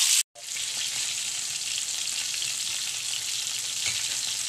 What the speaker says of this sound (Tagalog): luto na yung fried chicken natin with tuyo